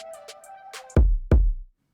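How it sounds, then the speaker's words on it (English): Two punchy kick drum hits from a hip-hop beat, each a sharp deep thump with a short booming tail, arriving about a third of a second apart after a brief stretch of quieter tonal sound. "The first kick sounds like this."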